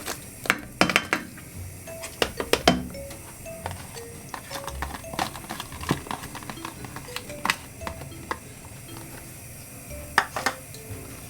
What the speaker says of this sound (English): So into that I'm going to be putting the sprig of thyme, which is fresh thyme. I'm going to be putting our chopped onions.